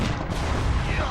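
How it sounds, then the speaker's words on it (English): A loud burst of rapid rifle fire in Call of Duty 2 World War II combat, dense and booming, with a voice briefly heard in the mix. "the process of firing a weapon as fast as you can pull the trigger"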